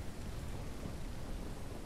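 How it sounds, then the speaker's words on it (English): A thunderstorm in the farming video game Ranch Simulator: dense steady rain hisses over a low rumble of thunder, loud and unbroken throughout, with no voices. "So another stormy day, unbelievable."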